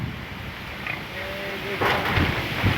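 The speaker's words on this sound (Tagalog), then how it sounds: "Lakas ang hangin." Strong wind buffets the microphone in a continuous rumble and hiss, with brief gusts and a faint voice underneath.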